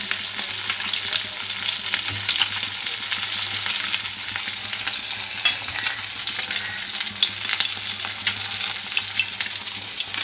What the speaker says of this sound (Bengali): এই আলুটা আমি লাল করে ভেজে নেব